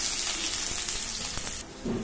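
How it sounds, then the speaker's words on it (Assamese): Onions frying in hot refined oil in a kadai, a bright continuous hiss and crackle close by, briefly dipping near the end before returning, with no talk. "এয়া মই গোটেইখিনি পিঁয়াজে ভালদৰে ভাজি ল'ম"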